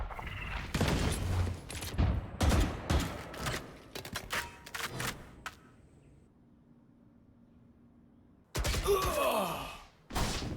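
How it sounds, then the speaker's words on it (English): Gunfire from the Valorant video game during a CVAL Championships esports match, with a series of loud, sharp bursts of shots in quick succession, a quieter lull, then another loud burst of fire near the end. "Revenge falls to Cuz from a long distance shot"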